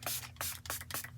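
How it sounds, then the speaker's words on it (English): Milani Make It Last setting spray misted in four quick hissing bursts, close and fairly quiet, evenly spaced over about a second. "we're gonna go back in with our Milani Make It Last setting spray"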